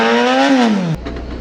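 A motorbike engine revs hard and loud as it pulls the metal frame out of a crashed track Miata, its pitch climbing, then falling before cutting off abruptly to a low rumble.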